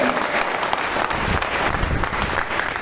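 Loud, steady applause from a packed hall audience honouring their guru at a meeting in Madhepura, dense clapping filling the whole stretch without pause.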